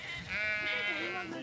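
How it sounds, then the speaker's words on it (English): A single sheep bleats nearby in a field on the North Yorkshire Moors, a wavering, drawn-out call lasting over a second against quiet outdoor background. "we're entering now into a field of sheep"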